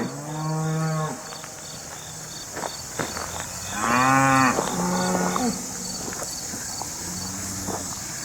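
Cattle in a pasture flooded into a lake after Hurricane Ida moo in long, loud calls, several overlapping bellows rising and falling over a steady background hiss, with occasional splashing movement.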